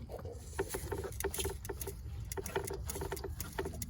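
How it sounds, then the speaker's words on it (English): Coolant drips and patters from the thermostat housing of a Jeep Chrysler engine in a quick, irregular series of faint, close ticks and splashes. "As I'm pumping it, so it's falling from the thermostat."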